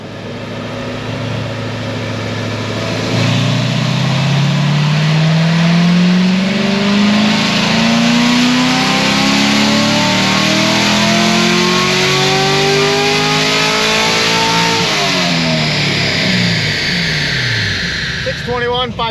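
A Corvette C7 Grand Sport with a naturally aspirated LT1 V8 and ethanol blend fuel runs a dyno pull, the engine climbing steadily from a low rumble to a loud high-rpm wail before backing off, near and dominant throughout.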